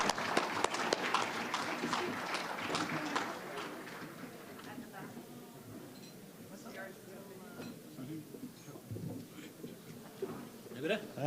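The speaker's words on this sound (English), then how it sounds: "Let's give a round of applause pour ces hommes." Applause from a conference audience for the panelists, dense clapping loudest at first and thinning, then picking up again toward the end, with some talk mixed in.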